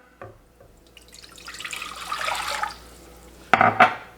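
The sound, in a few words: two cups of water poured into a pot for gravy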